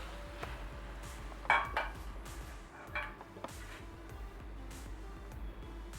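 Fried prawns for a Kerala-style roast are moved from a pan into a bowl, with faint metallic clinks and scrapes of a utensil against cookware over a low, quiet background.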